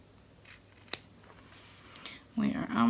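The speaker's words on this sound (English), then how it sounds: "watching me cut, it's probably not that entertaining" Scissors snip through fabric and stabilizer of an in-the-hoop cactus banner, a few sharp separate cuts close by, followed by louder handling and rustling noise near the end.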